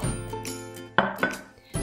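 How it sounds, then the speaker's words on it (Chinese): Knife chopping scallions into segments on a cutting board, a few sharp, close knocks spaced unevenly over a faint hum. "姜片切好了，再来切点葱段"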